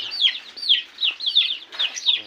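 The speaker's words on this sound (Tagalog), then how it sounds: "Ayan yung mga manok natin." Chickens cluck in quick repeated bursts, fairly close, with a steady run of calls overlapping one another and no talking.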